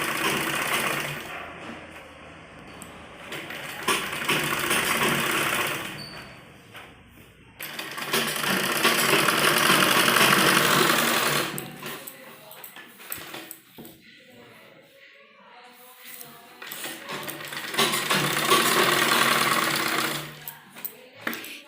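A sewing machine stitches a folded lining hem on a baby frock in bursts of steady mechanical running, with quieter pauses between runs, close and moderately loud.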